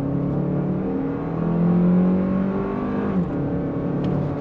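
A 2024 Lexus TX 350 SUV accelerating on throttle through a smooth torque-converter automatic, heard from inside as a steady rising engine hum with a gear change near the end and no talking.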